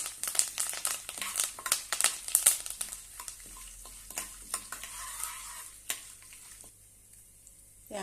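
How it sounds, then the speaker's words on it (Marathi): Cumin seeds and curry leaves sautéing in a pan for a spinach-onion chutney, with soft crackling sizzle and stirring scrapes close by, fading quieter toward the end. "थोडंसं जिरे थोडासा कढीपत्ता आणि छानपैकी परतून घेऊया"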